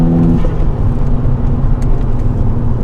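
A turbocharged VW Golf GTI Edition 30 engine, Stage 1 tuned to about 300 bhp, pulls hard accelerating in fourth gear, a loud steady drone with a rising low hum that holds throughout, close up.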